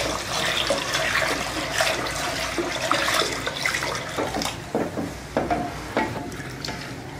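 Milk is poured little by little into a pan of halwa while it is stirred, giving a close, continuous watery slosh and sizzle with scraping strokes, without voices.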